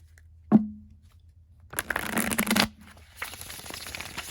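A 1983 Royal Fez Moroccan Tarot deck is shuffled close by: a soft tap, then a dense riffle of cards lasting about a second, followed by quieter rustling of the cards being handled.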